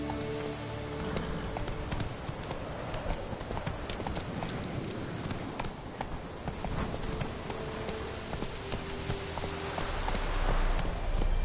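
Roach the horse gallops in The Witcher 3, a steady rapid clip-clop of hooves close and continuous throughout, with a brief spoken command over the hoofbeats.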